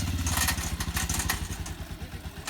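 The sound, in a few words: motorcycle engine during wheelie stunt practice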